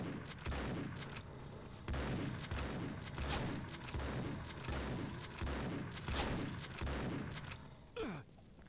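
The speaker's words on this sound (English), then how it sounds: "I prefer to have my shotgun." Repeated heavy shotgun blasts from the video game Mutant Factions, roughly one every second, loud and booming with short decays, no talk.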